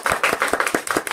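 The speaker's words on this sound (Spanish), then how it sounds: "ella merece un aplauso" Quick, rhythmic clapping from a few hands in a radio studio, close and crisp, with about seven claps in a brief burst.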